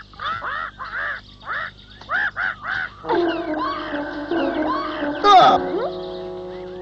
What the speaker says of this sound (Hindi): क्यों चिल्ला रही हो मैना?